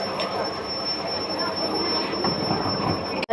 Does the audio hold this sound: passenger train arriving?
yes